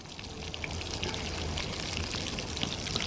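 Prawn cutlets sizzle on a flame BBQ grill, a continuous crackling hiss with scattered sharp pops of spitting fat, close and fairly loud with no talking.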